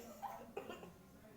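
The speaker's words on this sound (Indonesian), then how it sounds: "Silakan ibu batuk 3 kali." A patient gives a short cough during a breathing examination, followed by another brief cough, both faint and close in an otherwise quiet room.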